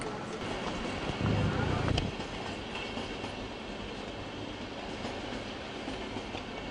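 A train of older InterCity coaches rolling through München Hackerbrücke S-Bahn station, heard as a continuous rumble with rail clatter and a brief louder low thump early on, at moderate distance.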